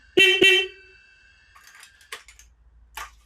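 A newly fitted horn on a Triumph motorcycle gives two short, loud honks in quick succession, followed by faint workshop clatter and a few quiet knocks.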